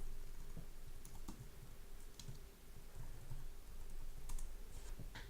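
Faint keyboard typing as a playlist name is entered, a few scattered soft clicks over a steady background hum, no speech.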